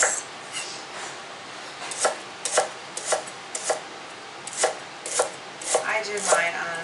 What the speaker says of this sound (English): you're just going to cut it up into 1/4-inch slices, like this